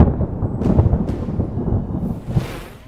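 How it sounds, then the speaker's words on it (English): Thunder rumbles outside during a storm: low, heavy rolling booms swell and fade over a few seconds, loud and deep, with faint hiss at the edges and no voices. "Don't be afraid, it's just thunder outside"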